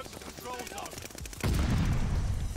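NZ-41 assault rifle fire in the shooter game Call of Duty: Vanguard, a sustained burst of rapid automatic shots that grows louder and denser midway, with busy game sound effects underneath.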